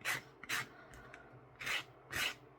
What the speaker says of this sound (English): I'll just take a sander and try to straighten it out